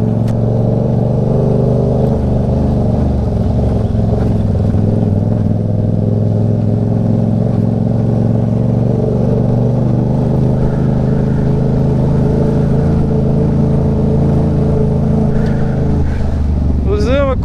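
A Yamaha MT-07 motorcycle rides over bumpy cobblestone streets, its engine giving a steady, close rumble with rising revs toward the end, under wind noise and no clear talk.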